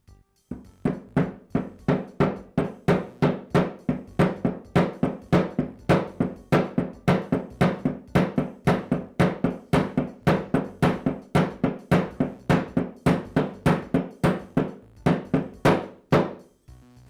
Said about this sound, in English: I'll place it into the housing and again use my socket to tap it into place.